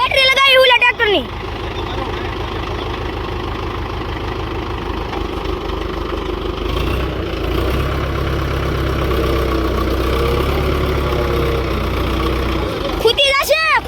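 A tractor engine runs steadily after a battery jump start, a low continuous idle throb lasting throughout, with voices talking briefly at the start and end.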